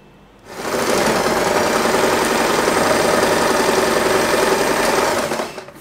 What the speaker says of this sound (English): and we are going to sew this part.